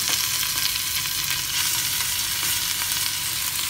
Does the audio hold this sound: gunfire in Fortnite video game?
no